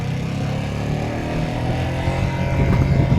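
A 2025 Ducati Panigale V2S accelerating in first gear from a standstill, its engine a steady loud drone heard from the rider's position, swelling slightly toward the end with wind noise mixed in.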